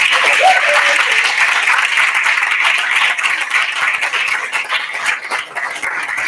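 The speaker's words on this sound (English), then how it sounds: "applause." Loud audience applause at a university student pitch competition, sustained clapping that stays strong throughout, with a brief voice near the start.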